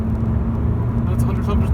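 Honda Civic sedan with 1.6 i-DTEC diesel engine pulling uphill in third gear, a steady low engine rumble from inside the cabin beneath someone talking.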